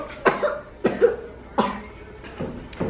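Four separate coughs from children, close and fairly loud, spaced about a second apart, with no talking.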